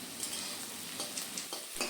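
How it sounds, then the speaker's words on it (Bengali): Ginger paste and onions fry in a pan with a soft, continuous sizzle while being stirred. Faint scraping taps from the spoon recur every so often, quiet and close. "আদাটাকেও 1-2 মিনিটের জন্য নেড়েচেড়ে নিয়ে ভেজে নিতে হবে"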